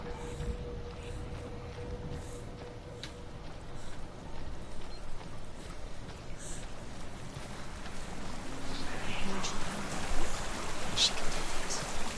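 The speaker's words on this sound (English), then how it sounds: "now I can walk through the waterfall because there's now a light here" A waterfall in the video game Hellblade: Senua's Sacrifice, a continuous rushing roar of falling water that swells louder in the second half, with faint clicks and game sounds over it.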